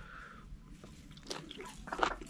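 Someone chews large bites of raw beef up close, with soft wet biting and a couple of louder crunchy mouthfuls near the end, no talking.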